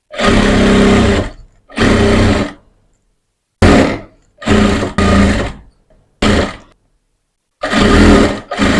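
A sewing machine stitches piping on a blouse back neck in short, loud bursts of rapid whirring, roughly six runs separated by silent pauses.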